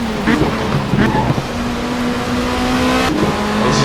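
A race car engine drones loud and steady in Race 07, the WTCC game on PC, during an opening warm-up lap, with gear-change dips and revving.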